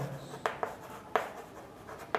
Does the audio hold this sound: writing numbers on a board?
yes